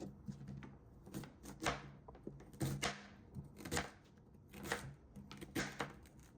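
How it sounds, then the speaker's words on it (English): A knife chops a fennel bulb on a cutting board in a quiet, close series of crisp taps, roughly a dozen cuts in an uneven rhythm with short pauses between them. "So I'm going to go through and finish chopping"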